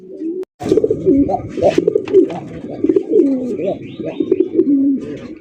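Bombay pigeons coo in repeated throaty phrases at a pigeon market. The calls are close and fairly loud, with overlapping rolling coos from several birds and a short gap near the start.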